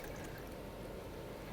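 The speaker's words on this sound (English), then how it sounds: "I'm pouring additional water behind to the tank because it doesn't look nice" Water pours steadily into the tank of a coffee maker, a continuous close splashing and trickling that lasts throughout without any talking.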